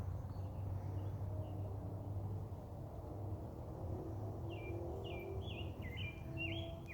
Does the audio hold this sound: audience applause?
no